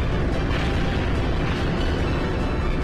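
Main cannon of an airship firing in Skies of Arcadia Legends, a loud sustained rumbling blast that fills the whole moment with heavy, booming roar.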